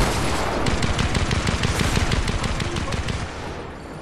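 Rapid automatic gunfire in the Fortnite Zero Build video game, a loud sustained burst of dense shots for several seconds that thins out near the end.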